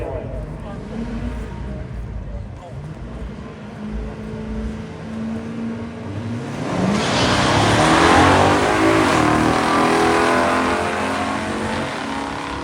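A 1968 Pontiac Firebird 400 launching at a pure stock drag race, its engine roaring up and swelling loud midway before easing off, with an announcer talking over it.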